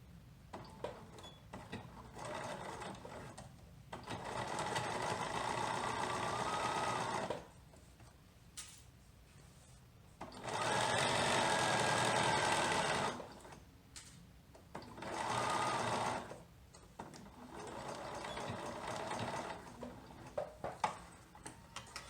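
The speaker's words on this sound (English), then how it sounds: "right now I'm just going to sew up 2 little side seams on these little bloomers" Sewing machine stitching the side seams of baby bloomers, running in three or four separate bursts of steady whirring with quiet pauses between, close up and without talk.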